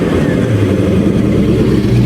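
An engine idles roughly nearby with a low, slightly uneven rumble, steady and fairly loud for a couple of seconds.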